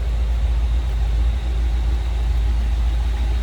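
A 1955 Ford Thunderbird's 292 V8 runs steadily out of its rear bumper-exit exhaust, a close, continuous low idle rumble with no break and no talking.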